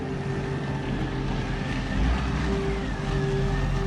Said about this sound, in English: Here's a slurry tanker coming in now.